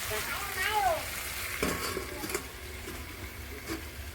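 Taro stolons (kochur loti) sizzle and crackle steadily in a frying pan, a close, continuous frying hiss with a few clinks and soft stirring sounds.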